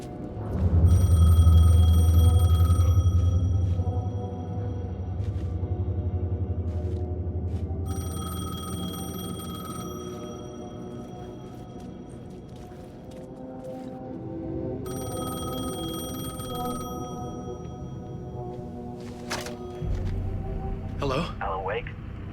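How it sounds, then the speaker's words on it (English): A telephone rings repeatedly in the video game Alan Wake II, in regular bursts of bright bell tones separated by short gaps, set over a low, loud rumbling ambience with some talk. "phone was ringing"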